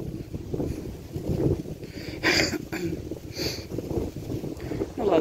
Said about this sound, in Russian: Ветрище, конечно, сильный.